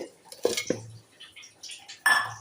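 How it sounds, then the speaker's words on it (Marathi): A few dry rattling clinks as peanuts drop into a metal mixer jar, in short bursts with a pause between. "हे बघा शेंगदाणे घातले"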